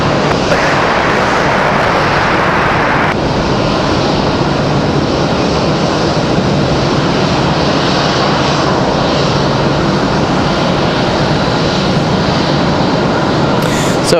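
A fixed-wing airliner takes off from runway 5 at Raleigh-Durham International Airport, its engine roar loud and sustained for the whole stretch, a broad continuous rumble with no voices over it.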